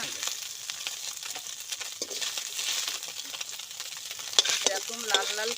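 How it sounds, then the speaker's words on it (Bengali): Small chuno fish frying in hot oil in a pan, a steady bright sizzle and crackle throughout with stirring, growing a bit busier near the end. "এরকম লাল লাল করে কিন্তু মাছগুলো ভেজে নিতে হবে।"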